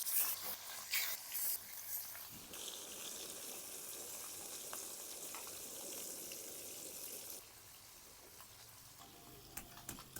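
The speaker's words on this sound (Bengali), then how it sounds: "তেল গরম হয়েছে একে একে সবগুলি মাছ দিয়ে ভেজে নেবো ভালো করে" Small puti fish frying one after another in hot oil for a light fish curry, giving a steady, moderate hiss and sizzle with a few sharp clatters near the start and a quieter stretch at the end.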